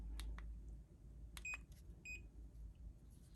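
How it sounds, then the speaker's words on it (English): Two short, high electronic beeps sound in quick succession from a phone against a quiet background, with a couple of faint clicks before them. "2 beeps."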